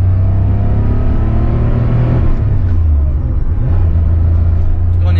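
A 1979 Porsche 911 Super Carrera Type G engine pulls hard in a steady loud low drone from inside the car, with pitch sweeps and brief dips as the gears change.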